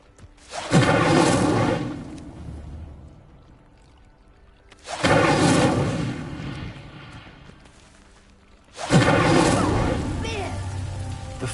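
Three bursts of the Incendio fire spell in Hogwarts Legacy setting a pyre ablaze, each a loud whooshing roar of flame that surges up suddenly, then fades slowly before the next one ignites.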